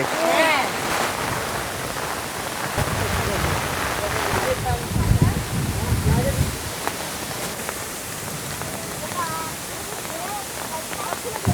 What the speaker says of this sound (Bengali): বৃষ্টি যে এত জোরে আসবে এটা আমরা বুঝতে পারিনি